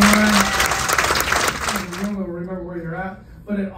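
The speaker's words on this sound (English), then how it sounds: "Give them a round of applause if you don't mind." Audience applause rises in a dense burst aboard the American Splendor on a Mississippi River cruise, fading after about two seconds as a voice takes over.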